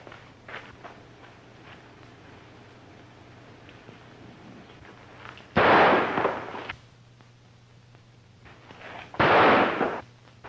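Two loud, booming gunshots ring out in a 1938 Western film scene, spaced several seconds apart over a quiet outdoor background.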